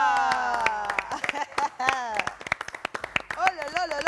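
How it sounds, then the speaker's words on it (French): An audience claps at a French lifestyle and social media club show, with scattered sharp hand claps mixed under lively, excited talk throughout. "On continue d'applaudir, on continue d'applaudir."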